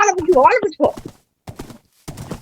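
A horse in the Minecraft video game during a PvP tournament, with short clip-clop and whinny-like bursts mixed in among excited talk and brief pauses.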